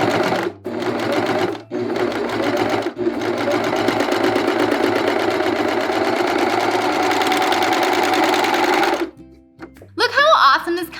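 A serger overlocks fabric around a convex curved edge, a steady fast mechanical whirr running continuously for about nine seconds after a few short starts, then stopping abruptly with brief clatter at the end.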